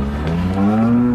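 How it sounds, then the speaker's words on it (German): A single low, drawn-out moo from a cow, close and loud, rising slightly in pitch as it continues. "da war gerade eine Kuh"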